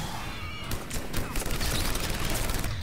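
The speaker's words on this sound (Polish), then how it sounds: "Bo tylko pustoszyciel właśnie tak strzela." Ravager enemy in Mass Effect 3 firing its weapon: rapid bursts of sharp, crackling shots in an ongoing volley over a dense battle din.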